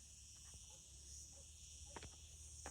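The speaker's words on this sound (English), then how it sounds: "You can hear the insects," Insects trill faintly in the countryside outside a rural house with a pool, a steady high drone running throughout with a few soft clicks and chirps scattered beneath it.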